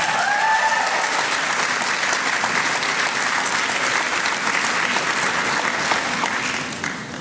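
Sustained applause at a college conferring ceremony for social care graduates, a large crowd clapping in a dense, steady roar that holds for several seconds before fading slightly at the end.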